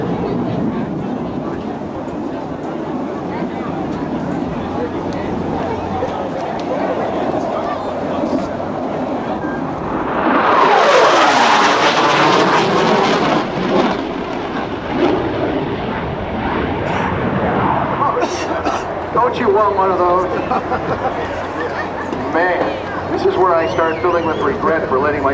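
An F/A-18C Hornet jet with afterburner roars past at a naval air station airshow, a loud tearing rush that sweeps down in pitch as it passes, amid crowd noise and an announcer talking.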